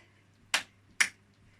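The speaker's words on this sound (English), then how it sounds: "Down with a clap" Two sharp, separate hand claps about half a second apart during a music-backed exercise routine for seniors and beginners, fairly faint against a low steady hum.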